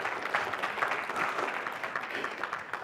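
Audience at a leadership keynote conference applauding, a steady wash of many hands clapping, fairly faint and distant, with no talk over it.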